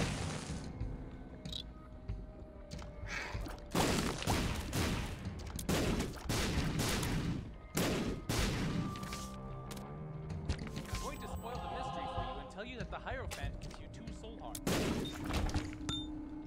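Bombs go off repeatedly in The Binding of Isaac: Repentance, a run of booming, crackling game explosions under dense in-game effects and music throughout, with a louder cluster partway through.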